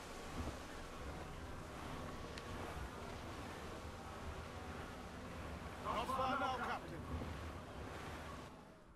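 Wind and waves while sailing a ship in the video game Assassin's Creed IV, a steady faint rush of surf and wind with a brief brighter burst of splashing near the end.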